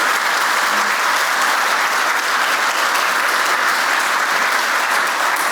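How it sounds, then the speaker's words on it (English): A large audience gives sustained, loud applause, with dense clapping at an even level throughout while a panel is welcomed on stage. "Oh, that's a lot of clapping."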